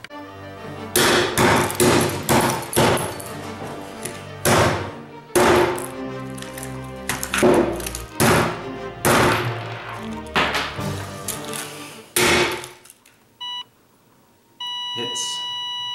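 Hammer smashing an ugly blue clock: a rapid series of loud, close impacts and cracking thuds for about twelve seconds, then the noise stops and a few faint electronic beeps and a tone follow.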